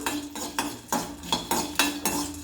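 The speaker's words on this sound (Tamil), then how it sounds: "சுண்டை வத்தலுங்க, அதை வறுத்துக்கலாம்" Dried turkey berries are roasted in a pan for puli kulambu, with a spatula scraping and clinking against the metal in a steady rhythm of about eight close strokes.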